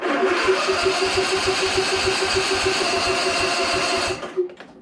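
A Husqvarna small engine on full choke fires up and runs at a fast, steady putter, loud and close, then sputters and drops off near the end.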